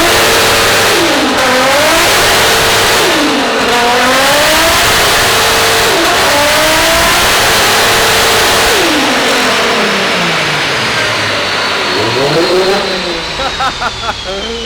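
A four-door Toyota Supra engine with an aftermarket exhaust revs hard and repeatedly on a dyno, climbing and falling in pitch through long, loud pulls, with a roaring exhaust and voices faintly underneath.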